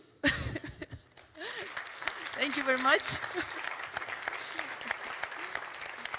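Audience applause for a team on stage at a crypto summit, a loud burst of clapping that starts with a voice and continues steadily under and between spoken words, with some cheering.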